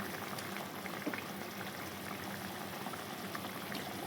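Fish pieces, some with roe, fry in hot oil in a home kitchen, giving a steady, dense sizzle and bubbling that stays fairly quiet and even from start to finish, with no talking.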